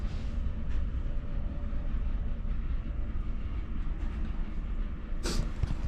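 A moving UK passenger train rumbles steadily from inside the carriage, a constant low roar with a brief sharper clack near the end and no talk.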